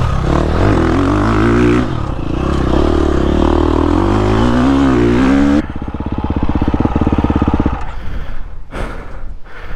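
KTM dirt bike engine revved hard, a loud close buzzing roar that climbs and falls in pitch, then drops into a rough rapid idle chatter before a couple of short blips near the end.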